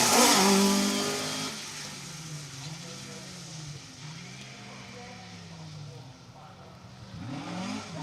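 A Lotus Sunbeam rally car replica in Heat for Hire livery on a tarmac special stage at a historic rally, its engine rising and falling through gear changes as it passes, with a commentator talking over it.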